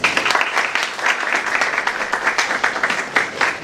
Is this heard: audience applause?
yes